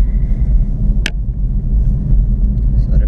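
A BMW i3 electric car drives along on reduced power, with a loud, steady low road rumble and tyre noise inside the cabin and a brief sharp click about a second in.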